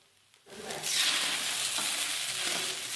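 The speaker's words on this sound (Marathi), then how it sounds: "साबुदाणा आपल्याला चांगला एकसारखा हलवून घ्यायचा आहे व्यवस्थित फ्राय करायचा आहे" Sabudana (sago pearls) stirred and fried in a pan for khichdi, quiet at first, then a steady close sizzle and rustling scrape that keeps going to the end, with no talking.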